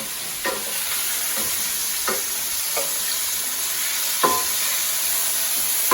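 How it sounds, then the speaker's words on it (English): Mushrooms fry in a pan under a steady broad sizzle, and a wooden spatula scrapes and stirs them in about six separate short strokes spread across the clip. "We're gonna just start moving the mushrooms around a bit."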